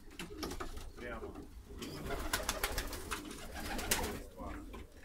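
A pair of Baku broad-tailed pigeons perched on a low shelf in a loft coo in soft, repeated, throaty calls, with scattered clicks and rustles around them.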